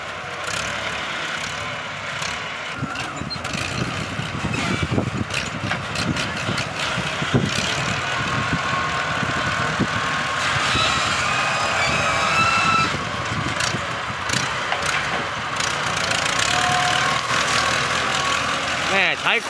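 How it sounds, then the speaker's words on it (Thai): A rough diesel engine of a farm tractor converted into a ride vehicle chugs steadily nearby for the whole stretch, with clattering mechanical noise over its low rumble. "ใช้คุ้มเลยจากรถไถนามาแปลงเป็นรถขี่ปล่อย"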